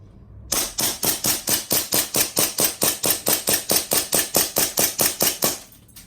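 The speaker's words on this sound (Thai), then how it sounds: "ยิงมันเลยยี่สิบสี่นัดกดยาวๆเลยนะครับ" An AW HX2501 airsoft pistol fires a rapid string of about two dozen sharp, evenly spaced shots, loud and close, then stops abruptly when it runs empty.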